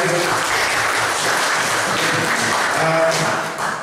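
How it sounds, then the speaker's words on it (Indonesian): Audience applause at a school event, a dense steady wash of many hands clapping that fills the whole stretch, with a faint voice underneath near the end. "Ya, tepuk tangan dulu"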